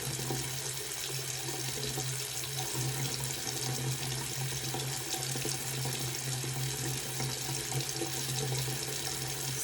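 Tap water running steadily into a sink during face washing, a continuous close splashing hiss with a low hum beneath, no pauses.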